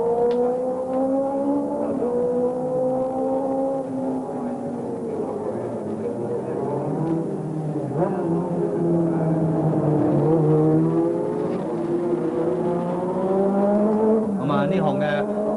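Racing motorcycles in a 1986 senior modified motorcycle race roar past with rising and falling engine whines, several machines overlapping, under continuous commentary.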